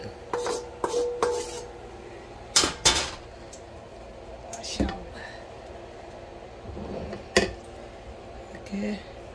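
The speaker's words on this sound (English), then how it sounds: "Now I'm gonna mix it." Ingredients with onion are stirred in a metal pot, making scattered scraping and clanking strikes of a utensil against the pot, several sharp knocks spaced irregularly among softer rubbing sounds, with a person talking.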